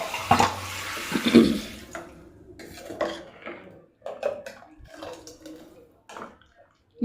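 Water splashes and clatters into a pot of avare bele sambar, with scattered clinks of utensils against metal, close by, in short uneven bursts.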